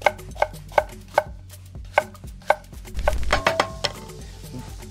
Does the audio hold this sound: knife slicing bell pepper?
yes